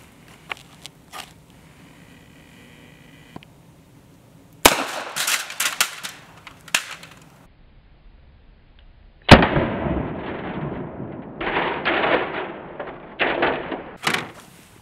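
Several sharp, loud rifle shots from a 6.5 Grendel ring out outdoors as bullets punch through stacked groups of license plates, each crack followed by brief rumbling decay, with quieter clicks and handling noises between shots.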